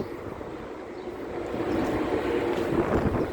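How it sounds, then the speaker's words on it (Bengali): A steady rush of wind through trees in Kuwait City swells slightly louder partway through, a soft continuous roar with no voices. "কি সুন্দর হাওয়া বইছে, দেখছেন নি? গাছের পাতাগুলা কিভাবে নড়ে"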